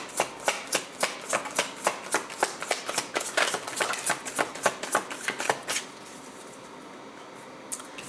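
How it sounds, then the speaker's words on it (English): Tarot cards are shuffled by hand in a quick series of crisp, riffling bursts for about six seconds, close and clear, before falling quiet. "I'm going to shuffle again."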